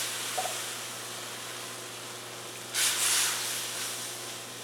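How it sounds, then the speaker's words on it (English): Two cans of coconut milk poured into a very hot, smoking wok, a low steady background hum broken by a sudden bright hissing sizzle burst that lasts under a second before settling back. "We've heated our wok. You can see it smoking a little bit. We're going to add our 2 cans of coconut milk."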